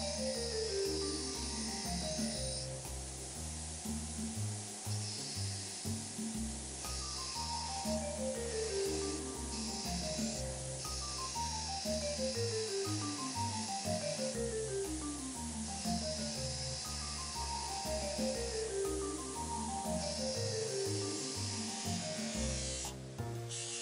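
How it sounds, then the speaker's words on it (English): A buffing wheel shines the metal of an old Ford auto wrench made by Moore Drop Forging Co, a steady electric whir running close and loud with the pitch rising and falling in repeated sweeping cycles as the part is worked. "I'm using my buffing wheel to shine up the metal."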